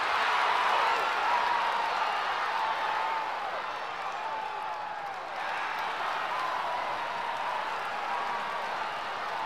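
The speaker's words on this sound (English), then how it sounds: "this is a great opening day crowd" A dense stadium crowd from the Cars Mater-National Championship racing game on PS2 cheers and roars at an opening-day event, a steady broad wash of noise that holds for the whole stretch and dips slightly about midway.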